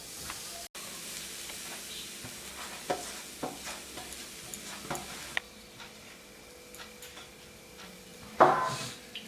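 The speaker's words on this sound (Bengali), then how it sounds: "এবার আমি এই নারকেলগুলো দিয়ে দেবো কড়ার মধ্যে।" Grated coconut stirred and fried in a wok over a gas flame for bati pithe, a soft sizzle with scattered scraping taps of the spatula and a louder burst of stirring near the end.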